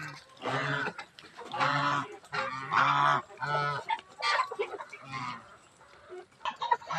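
Muscovy ducks on a farm give a run of loud, hoarse honking calls in repeated bursts, close and busy, with several birds calling over one another.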